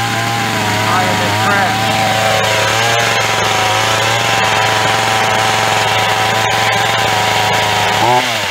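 Black Max 16-inch gas chainsaw idling and revving steadily right after its first start, a loud continuous two-stroke drone close by with a throttle blip near the end.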